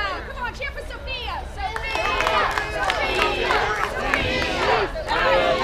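A crowd at an adventure fight show cheers and shouts for a contestant, many overlapping voices swelling from a quieter start into a loud, sustained roar.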